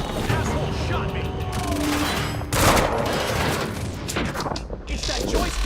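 Quantum Break firefight with dense, continuous gunfire, bursts and booming impacts, while characters shout over the shooting.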